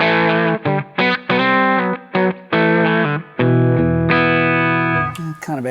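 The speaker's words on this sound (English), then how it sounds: "So we have a little Echoplex pedal here. It's been modified, but it's a boost pedal." Electric guitar played through a modified Echoplex boost pedal, sounding as a bright, sustained, distorted tone in short chopped phrases and then longer held notes, loud and alone.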